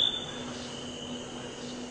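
Snowy tree crickets chirp in a continuous high-pitched trill on a warm summer evening in Ithaca, a steady insect chorus at moderate distance with no voices.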